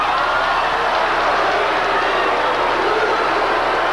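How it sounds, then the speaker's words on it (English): A dense crowd noise fills an auditorium after a third-place award at a Miss Olympia women's bodybuilding contest, the audience booing steadily and loudly throughout with no clear pauses. "Bit of booing there, not a real popular decision with the audience."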